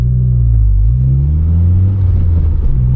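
A car engine starting off in second gear, a loud close rumble with rising revs held steady under acceleration, continuous and heavy throughout with no talk.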